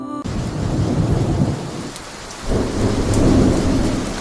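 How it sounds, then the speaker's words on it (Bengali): Rain and thunder from an animated Bangla love-story cartoon: heavy steady rainfall with deep rolling thunder rumbling under it, swelling louder midway, with no voices. "আবার বৃষ্টি শুরু হয়েছে,"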